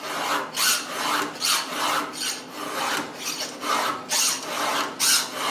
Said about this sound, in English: I can push down with this hand, and it guides the file down and keeps it from drifting up